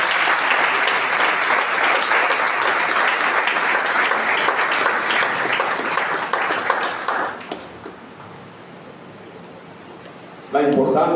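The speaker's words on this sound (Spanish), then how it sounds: "Denle un aplauso al Señor." Church congregation applauding during a Spanish-language sermon, a dense, steady wash of many clapping hands that fades out partway through, leaving near silence before a brief burst of sound at the end.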